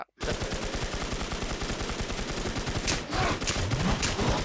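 Rapid sustained gunfire in the Warz RemakeZ shooter as players unload on a boss, a dense continuous burst of automatic shots running nearly the whole stretch, loud and close.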